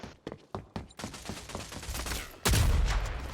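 Shotgun fire in the video game Rogue Company: a rapid series of punchy blasts, about a shot every quarter second, building into a dense rumbling barrage with a big heavy boom near the end.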